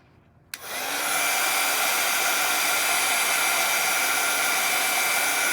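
A heat gun switches on and blows a steady, loud rush of hot air to dry watercolor paint on a sunflower painting, holding constant after a brief start.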